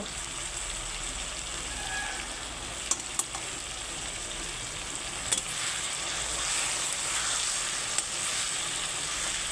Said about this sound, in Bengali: এইবারে আমি ভালো করে কষাবো, অনেকক্ষণ ধরে কষাতে হবে